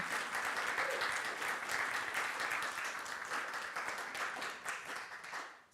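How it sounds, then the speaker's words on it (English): A congregation at a Sunday service claps in warm, sustained applause, many hands at once, steady and fairly close, tapering off at the end. "The clapping always makes me shy, but thank you"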